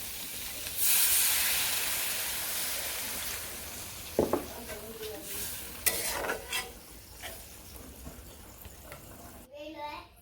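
Dried fish frying in a pan in a village kitchen, a steady hiss and sizzle with occasional stirring scrapes, while a voice talks over it.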